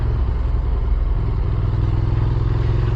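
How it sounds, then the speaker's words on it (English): A 2023 Benelli Leoncino 800 motorcycle's engine idling steadily close by, a deep, even rumble with a slight rattle and no change in revs, with no talking. "I love the sound of this bike as well. It's got a really nice note to it."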